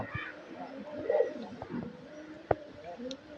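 Pet pigeons kept at a home, giving a short, soft coo amid faint household noise and a sharp knock, with quiet background voices.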